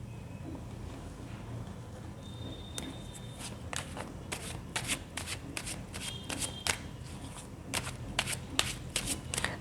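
Tarot cards shuffled and handled close up, with a series of crisp riffling snaps and soft slides repeating through the clip over faint background noise.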